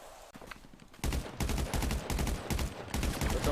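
GTA roleplay shootout against police, with a quiet stretch giving way to loud, rapid bursts of gunfire in repeated volleys with short gaps between them.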